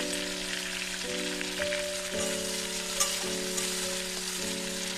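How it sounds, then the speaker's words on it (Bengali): Lemons and garlic fry in a pan for a lemon chutney, giving a steady, dense sizzle that runs unbroken throughout beneath a soft, sustained musical tone in the background. "দু তিন মিনিট লেবুগুলো ভেজে নিতে হবে"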